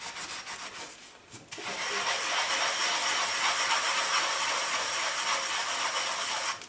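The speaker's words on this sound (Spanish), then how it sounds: "Voy a fregar la cafetera." A coffee pot being scrubbed with a scouring sponge, a steady close rasping rub that grows louder after a short pause and continues unbroken, with no talking.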